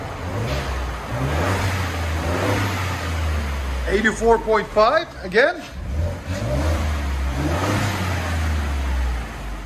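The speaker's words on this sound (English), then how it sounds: "2022 Ford F-150 Ecoboost. This is what it sounds like before." Stock exhaust on a 2022 Ford F-150 XLT 3.5L EcoBoost twin-turbo V6 with factory converter, revved repeatedly in rising and falling surges, close and loud, with someone talking briefly over the engine midway.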